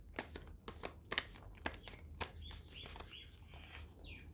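Tarot cards are shuffled by hand in a quiet room, a quick series of crisp riffling and snapping card sounds with a soft swishing slide toward the end.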